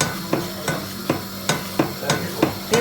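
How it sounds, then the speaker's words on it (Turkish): An old pot rattles on the stove, its lid knocking in quick, evenly spaced taps, close and steady. "Cipslerin altında tencere neden böyle takır takır ediyor acaba?"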